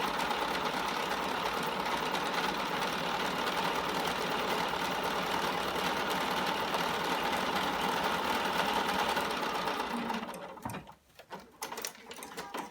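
Sewing machine stitching denim for a jeans front pocket facing, loaded with gray topstitching thread, running steadily with a fast mechanical whir for about ten seconds before stopping, followed by a few quieter handling clicks.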